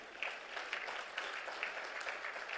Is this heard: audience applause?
yes